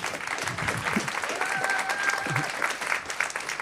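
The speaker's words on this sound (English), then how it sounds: "Another round of applause, by the way, for Qonto for welcoming us" An audience at a Paris AI agents hackathon gives a round of applause, continuous and fairly even, with a few scattered voices mixed into the clapping.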